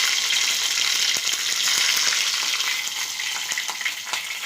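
Green chilies tossed into a hot pan of oil, producing a loud, hissing sizzle with scattered pops and spatters that holds steady at close range for a few seconds.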